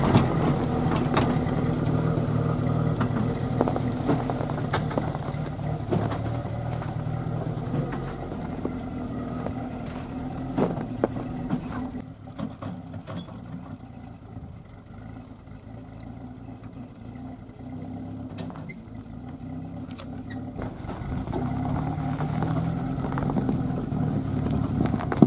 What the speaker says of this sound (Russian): Машина выехала, смогла выехать.